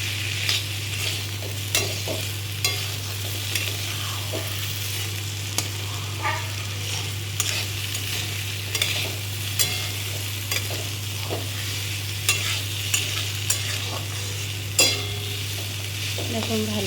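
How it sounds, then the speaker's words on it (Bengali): Food fries over a gas flame in a pan while it is stirred, a steady close sizzle with regular scraping stirs and a low constant hum, and no voices. "এবার এটাকে সুন্দর করে নাড়াচাড়া করে আবার একটু ঢেকে দেব।"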